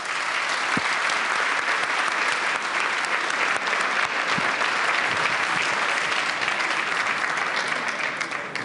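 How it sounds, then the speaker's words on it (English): Sustained, dense applause from a large conference-hall audience after a panel on European defence and support for Ukraine, steady and loud throughout with no break. "Let's give a huge round of applause to our panel."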